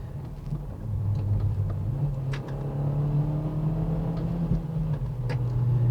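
Turbocharged engine in a 2019 Hyundai Veloster R Spec with a manual transmission revving quickly, a steady loud drone that climbs in pitch and then holds. No speech.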